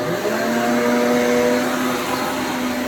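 Riccar vacuum cleaner running continuously at close range, a steady loud motor whine with a sustained tonal hum and airy rush, no talking.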